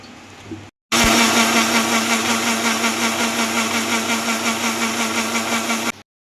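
A mixer grinder whirs steadily as it grinds curd with salt and turmeric, a loud, even motor drone holding for about five seconds before cutting off.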